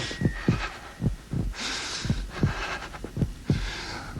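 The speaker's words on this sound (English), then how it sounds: "the heart beat on, but at length it ceased" A steady heartbeat thumps in a Tell-Tale Heart horror audio drama, about eight deep, regular double beats, loud and close, with a hissy background and no voices.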